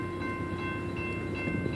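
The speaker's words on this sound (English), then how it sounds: "And this train is stopping." A train passes close by at a level crossing, a loud steady rumble of rail cars with tonal whines and bell-like ringing from the crossing, no voices.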